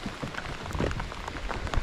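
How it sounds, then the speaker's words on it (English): Rain pattering steadily on the water and surroundings during a bass fishing outing, a dense, continuous close hiss with scattered heavier drops, no voices. "I don't know what this rain's going to do to them really."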